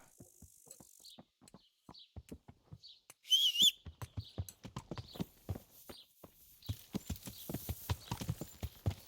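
Steady clip-clop of horse hooves at a walking pace in Kingdom Come: Deliverance, with a brief whistle-like tone partway through and a faint ambient backdrop.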